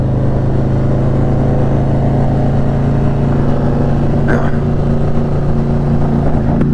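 Harley Davidson Sportster Iron 883 motorcycle running close and loud, a steady deep rumbling engine note held for several seconds with little change, no talk.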